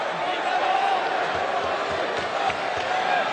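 A raucous wrestling crowd at Monday Night Raw, the night after WrestleMania, keeps up a loud, continuous wash of shouting and cheering with scattered sharper whoops and thumps.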